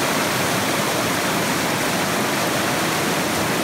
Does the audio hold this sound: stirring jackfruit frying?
no